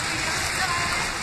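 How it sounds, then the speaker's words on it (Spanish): A rainstorm falling steadily, with a dense, even hiss of rain on surfaces that stays loud and unbroken throughout. "me cae una tormenta"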